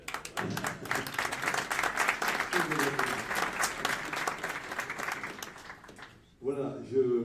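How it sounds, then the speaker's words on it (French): Audience applause fills a hall for the new director of the CAUE de Loire-Atlantique at a French awards evening, a sustained round of clapping that fades before a voice starts speaking near the end. "On l'applaudit."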